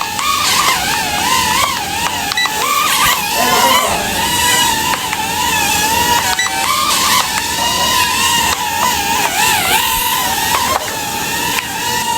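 An Aerobat HC 702 pocket mini drone flies in speed mode with a loud, close, high whine from its small motors, its pitch rising and falling as it manoeuvres, continuous throughout.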